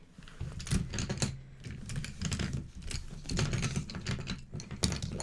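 Small hard objects clatter and rattle in a rapid, dense stream, like pencils tumbling out of a bag onto a surface, close and fairly loud.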